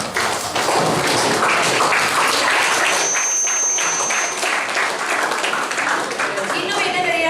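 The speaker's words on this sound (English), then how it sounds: "Give a round of applause." A school audience at a leadership talk breaks into steady, loud, dense applause that carries on for several seconds without pause.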